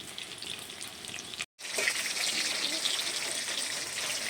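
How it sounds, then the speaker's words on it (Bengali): Chicken pakoras fry in hot oil, a soft, steady sizzle that cuts out for a moment while they are turned, then returns fuller and bubbling. "নেড়ে চেড়ে এই পিঠটা একটু ভেজে নিচ্ছি"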